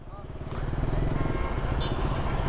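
A Kawasaki Z900 motorcycle idles and revs on a road during an off-road group ride, its engine a steady rumbling throb that grows louder partway through and continues to the end.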